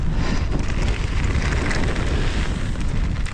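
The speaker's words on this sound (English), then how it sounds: "the wind is just too much." Strong wind roars and buffets the microphone nonstop while mountain biking a jump trail at Trexler Nature Preserve in Pennsylvania, loud, close and continuous throughout, with no talking.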